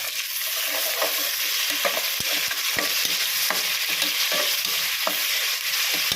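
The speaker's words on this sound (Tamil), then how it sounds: "நல்லா கலந்து விட்டுக்கலாம்." Rice mixture with water and salt being stirred with a ladle in a pot, a dense continuous bubbling hiss with scattered soft knocks and scrapes, close by and steady throughout.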